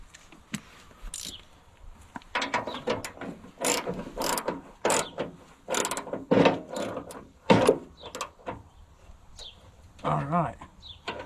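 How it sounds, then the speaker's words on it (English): Ratchet with a deep well socket tightening a bolt on an Allis Chalmers D17 diesel tractor, heard as repeated bursts of fast clicking strokes close by, separated by short pauses over about eleven seconds. "So I got that one, I was able to ratchet up."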